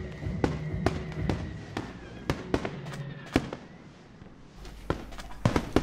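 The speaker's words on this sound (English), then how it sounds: "Oh, look at the fireworks." Fireworks explode in Minecraft, the video game: a string of sharp, loud bangs and pops at irregular intervals, some close together, with quieter crackling between the blasts.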